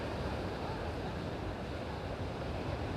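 Ocean waves and surf roll in at Las Americas, Tenerife, a continuous broad wash with wind buffeting the microphone.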